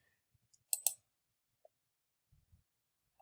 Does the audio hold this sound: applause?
no